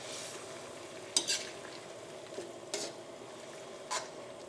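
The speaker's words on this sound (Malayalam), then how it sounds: "ഈ കറി നമുക്കൊന്ന് ഇളക്കിയിട്ട് കൊടുക്കാം" A mushroom potato curry simmers with a soft bubbling throughout, broken by a few light scrapes and clinks as a spoon stirs the pot, close by and fairly quiet.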